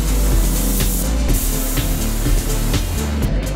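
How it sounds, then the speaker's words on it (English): Spray painting of bedroom walls during a house renovation, a steady loud hiss with continuous mechanical hum from the sprayer running throughout, close and unbroken, with no talk. "the rest of the team started to spray paint the walls in the bedrooms"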